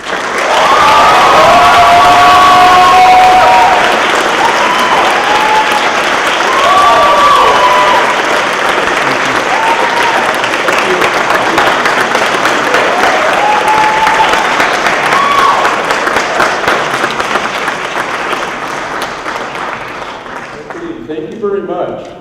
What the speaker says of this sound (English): The round of applause that you're about to drop should be the loudest round of applause you can possibly muster, especially tonight.